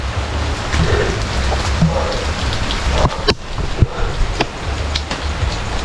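Heavy rain pours steadily onto a cemetery at night, a dense close hiss with rattling drops, a few sharp knocks and bumps near the middle, and no talk.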